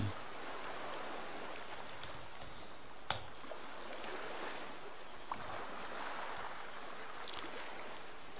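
Sea waves wash against the shore of a tropical island in Tropico 5, a soft, continuous hiss of surf with a few faint splashes, gentle and distant throughout.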